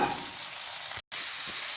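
Courgettes hit a hot pan of cooked onion and sizzle steadily, a close, even frying hiss with a brief gap partway through.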